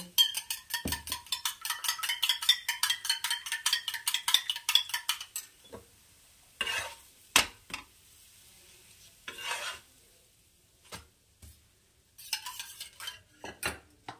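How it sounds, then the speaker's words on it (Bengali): An egg with a pinch of salt whisked in a bowl, a fast run of rhythmic metal-on-bowl clicks that breaks into scattered taps and scrapes with pauses, close and without voices. "দিয়ে এই ডিমটাকে ফেটিয়ে নেব"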